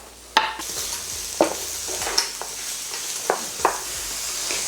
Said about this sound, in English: Then you're just going to add the minced onion to the pan.